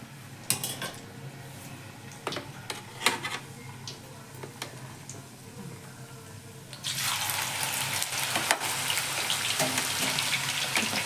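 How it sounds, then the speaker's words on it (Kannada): French fries dropped into hot oil set off a sudden, loud, sustained sizzle that continues to the end, after a stretch of quiet clinks and kitchen handling. "ಇಲ್ಲಿ ಎಣ್ಣೆ ರೆಡಿ ಇದೆ ಕಾದಿದೆ ನೋಡಿ"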